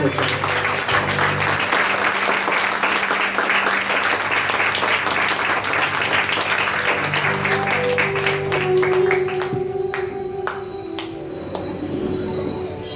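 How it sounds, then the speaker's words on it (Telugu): Church congregation clapping during a Sunday worship service, a dense, steady wash of applause that carries loudly through most of the clip, then thins out toward the end as a sustained tone rises underneath. "అందరూ చప్పట్లు కొట్టి ప్రభువుని"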